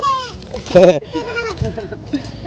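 A goat bleats once in a brief, wavering call amid steady, close conversation between people.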